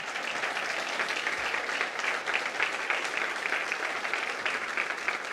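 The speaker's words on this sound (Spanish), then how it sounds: "Vamos, aplauda al Señor." A church congregation claps steadily and loudly throughout a sermon, a dense, continuous wash of applause without pause.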